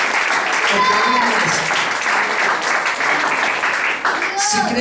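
A worship congregation keeps up thick, continuous clapping in a Spanish-language church service, fairly loud and even, with a few shouted voices poking through the applause.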